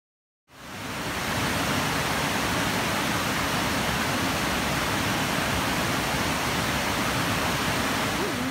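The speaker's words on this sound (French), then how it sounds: "cette cascade m'apaise et me permet vraiment de me revigorer" A waterfall roars as a steady, dense rush of broadband water noise, close and constant throughout, with no talk over it.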